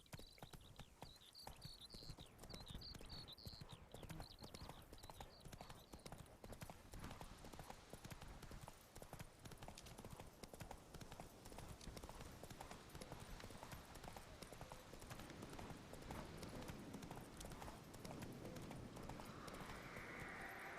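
Horse hooves galloping in The Witcher 3: Wild Hunt, a rapid continuous clip-clop rhythm throughout, fairly quiet, with a brief whinny-like tone near the start and light speech underneath.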